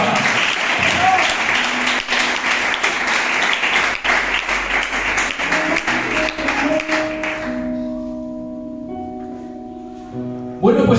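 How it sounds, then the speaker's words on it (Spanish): Church congregation applauding during a sermon, dense clapping filling the first several seconds before fading into quieter tones and murmuring. "Dad un fuerte aplauso al Señor"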